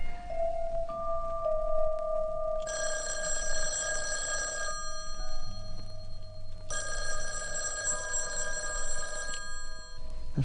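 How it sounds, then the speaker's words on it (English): In a 1979 radio thriller, an office telephone rings twice in long bell-like bursts separated by a pause, clear and prominent over faint background tones. "The phone rang a couple of times."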